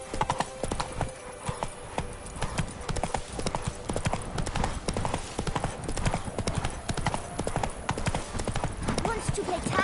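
Roach the horse from The Witcher 3 galloping, a dense rapid run of hoofbeats pounding steadily and loudly throughout, with speech in the mix.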